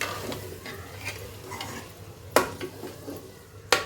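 Aloo matar gajar (potato, pea and carrot) mixed vegetables being stirred in a pot, with a low simmering sizzle, soft scraping and two sharp clinks of the spoon against the metal pot.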